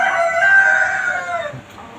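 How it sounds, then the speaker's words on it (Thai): A rooster crows loudly and close in one long, drawn-out call that fades away, among young hens not yet laying at a poultry farm. "อันนี้ก็ไก่รุ่นยังไม่ไข่ อันนั้นจะไข่แล้ว"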